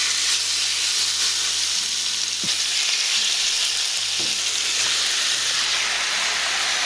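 Beef sears in a large, very hot pot for a big batch of carne guisada, a loud, continuous sizzle and crackle that holds steady throughout with a few sharper pops.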